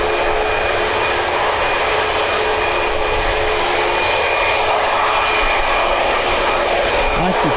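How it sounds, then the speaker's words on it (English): Airbus A330 jet at Birmingham airport: a steady, loud, continuous engine roar and whine filling the whole stretch, heard from nearby with no break or voices. "the A330 behind it is off to my part of the world"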